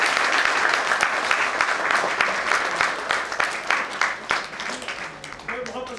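An audience claps loudly for director Vipin Kumar at a live play event, with sustained crowd applause that thins and tapers toward the end.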